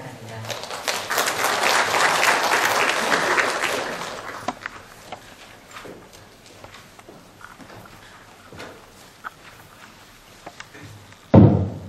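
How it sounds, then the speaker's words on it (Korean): An audience at a keynote lecture on preserving hanok culture claps steadily in a broad, loud wash for several seconds, then thins into scattered claps, footsteps and thuds, ending with a sharp bump. "박수로 맞아주시기 바랍니다"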